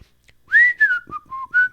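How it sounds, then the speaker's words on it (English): A person whistles a short, clear tune of several rising and falling notes, close and loud with no other sound. "you turn around and you whistle"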